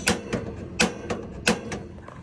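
Several sharp clicks of a piezo gas igniter on an Autoquest 145 motorhome ring out at uneven intervals, crisp and close, with quieter ticks between them and no talking.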